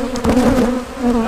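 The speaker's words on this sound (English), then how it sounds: "A lot of bees piled up. They're all disoriented." Honey bees at an opened, honey-bound hive, many crowded and disoriented, hum in a loud, dense, close buzz with a steady droning pitch throughout.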